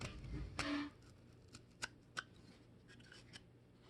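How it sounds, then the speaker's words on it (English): Scissors snipping into a cardboard toilet paper tube, a handful of sharp separate cuts and crisp snaps spaced irregularly, close and fairly quiet, with a brief rustle of handling at the start and no speech. "And I could use scissors that are maybe, a little thinner here and get more of a precise cut"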